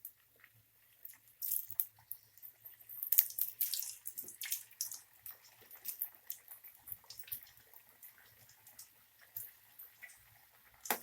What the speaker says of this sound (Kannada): ಈಗ ಕಟ್ ಮಾಡ್ಕೊಂಡಿರೋ ಆಲೂಗಡ್ಡೆ ಹಾಕ್ಕೊಂಡು ಫ್ರೈ ಮಾಡ್ಕೊಳ್ಳಿ.